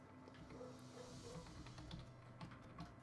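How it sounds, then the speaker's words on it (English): Computer keyboard typing, a quick run of soft irregular key taps close by over a low room hum, with no talking. "Listen to the keyboard tap."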